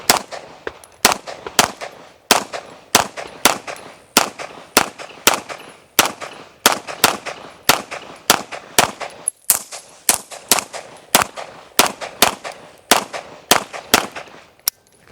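Rapid pistol gunshots during a USPSA practice run, a dense string of sharp, loud cracks in quick bursts with brief pauses, roughly two dozen shots fired close by with no talking.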